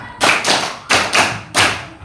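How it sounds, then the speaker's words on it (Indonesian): A group of children in a classroom claps together in a few sharp, hollow-sounding beats with short pauses between them, close and fairly loud. "Tepuk lima."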